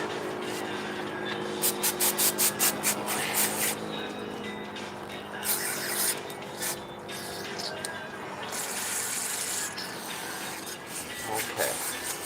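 Scraping gasket residue off an engine part of a 2007 KTM 450 EXC motorcycle, a series of short rhythmic rasping strokes followed by longer, intermittent scrapes, close and moderately loud.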